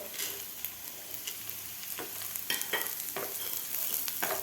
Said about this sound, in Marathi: कांद्याबरोबर व्यवस्थित भाजून घ्यायचे आहेत आपल्याला